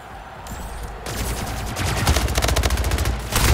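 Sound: gunfire in a video game shooter

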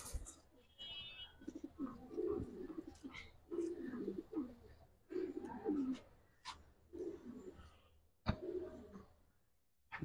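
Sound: pigeons cooing in a loft

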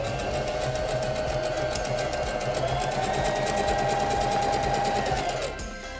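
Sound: SINGER Denim sewing machine sewing zigzag stitches

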